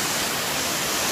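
A waterfall on Jirisan mountain in Korea, a loud, dense, continuous roar of falling water close by, steady and unbroken with no voices over it.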